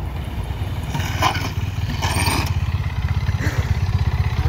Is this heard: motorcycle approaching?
yes